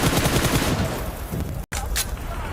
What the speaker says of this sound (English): Headshot there onto Darkin to finally finish him off